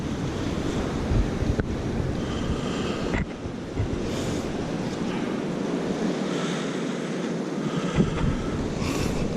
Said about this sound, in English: this tide is coming in to a pretty good size high tide